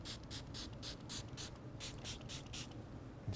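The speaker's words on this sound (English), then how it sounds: "And then one final neutralizing spray." Short, rapid bursts of a fine spray mist, likely a neutralizing spray applied to skin after a chemical peel, hiss in a quick rhythmic series over steady background noise, close to the listener.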